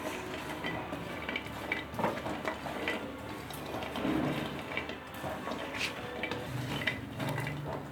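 Butterscotch-coated popcorn tossed and stirred in a pan off the flame, with soft scraping, light rattling and occasional clinks of a spoon against metal, moderately close and without talk.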